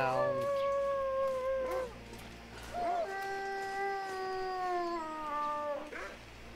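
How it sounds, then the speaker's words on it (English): Dogs howl in long, wavering, drawn-out tones within the Interloper video game, two sustained howls separated by a brief pause, fairly clear over a low background hum. "All the dogs."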